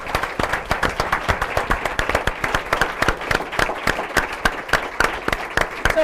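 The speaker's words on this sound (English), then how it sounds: "Raise your hand, please, and give them a round of applause." A small conference audience gives a round of applause at a youth-program evaluation event. The individual claps are sharp and distinct, falling in a quick, fairly regular rhythm close by, with no talking over them.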